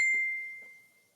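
A phone notification gives a single clear ding, a bright pure tone that rings out sharply and fades slowly over about a second, with faint muffled sounds beneath it.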